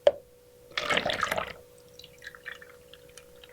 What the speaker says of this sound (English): Now I'm going to pour off my accent colors.